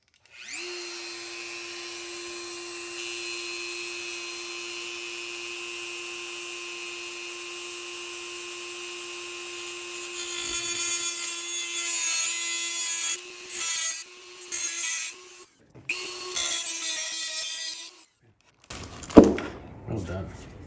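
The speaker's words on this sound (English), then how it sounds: "we're gonna go with the hold it in the vise, cut it with a Dremel and cutoff wheel" Dremel with a cutoff wheel cutting a part clamped in a vise during a Porsche Cayman 987 mount install, a steady high whine that grows rougher and choppier toward the end, with voices near the close.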